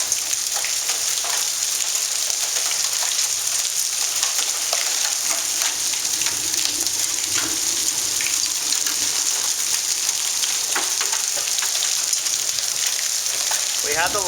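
Hailstones hammer steadily during a thunderstorm in Dallas, Texas, a constant, loud rattling hiss of impacts close at hand, a faint voice surfacing near the end.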